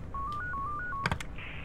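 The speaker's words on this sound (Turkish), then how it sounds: "Telefon çalıyor." A phone in the video game Yuppie Psycho sounds with a short stepped electronic tone sequence, followed by a couple of clicks and a brief higher tone, heard on its own without talk.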